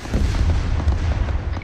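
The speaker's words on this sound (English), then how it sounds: "Oh, it's a rocket techie." A rocket-armed technical vehicle fires in an Arma 3 combat scene in Zargabad, a brief, loud, low rumbling blast with a rolling, continuous roar.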